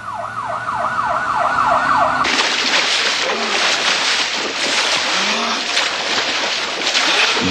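A wailing ambulance siren sweeps up and down at a steady rhythm for about two seconds, then gives way to a loud, dense roar of rushing noise with faint siren traces.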